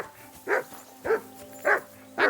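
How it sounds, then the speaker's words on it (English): A dog in Kingdom Come Deliverance II barks four times at an even, steady pace, each bark loud and close against a quiet background. "That dog of yours is barking like the devil."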